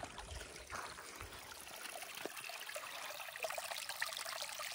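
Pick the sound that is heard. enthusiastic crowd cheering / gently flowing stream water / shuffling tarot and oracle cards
gently flowing stream water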